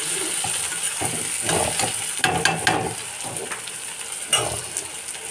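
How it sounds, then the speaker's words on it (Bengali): Eggplant and onion fry with green chillies in a pan, giving a steady oily sizzle with scattered stirring scrapes and a few sharper clinks, no talk. "বেগুন আর পেঁয়াজ ভেজে নিচ্ছি কাঁচা লঙ্কা"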